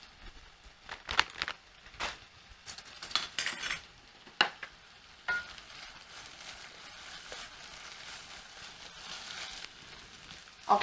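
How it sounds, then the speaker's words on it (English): Ground meat seasoned with allspice and chili con carne seasoning fries in a pan for a Finnish macaroni casserole, a soft sizzle broken by repeated scrapes and clinks of a utensil stirring against the pan. "now we'll just keep frying until the meat is brown and crispy"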